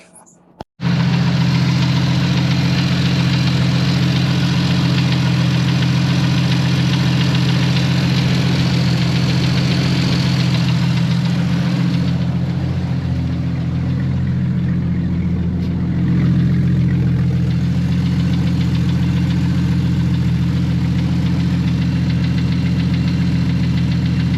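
A 1992 Jeep XJ engine cranks and starts abruptly, then idles steadily and loudly nearby with a constant low rumble and slight knocking, while a person speaks faintly over it.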